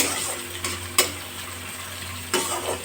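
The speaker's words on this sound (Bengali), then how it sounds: "গোবিন্দভোগের চালটা দিয়ে এক মিনিট ভালো করে নাড়াচাড়া করব" Gobindobhog rice grains being stirred and dry-fried in a pan, a steady soft sizzle broken by a few sharp scrapes of a spoon against the metal, close and alone with no voices.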